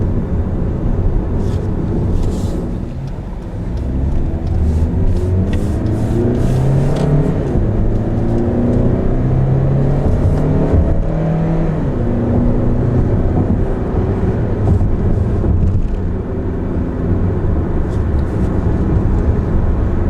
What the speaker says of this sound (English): I'm going to do an uphill acceleration